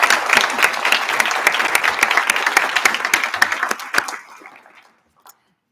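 Graduation audience applause for the graduates at a university ceremony, steady dense clapping for about four seconds that then thins and fades out to silence.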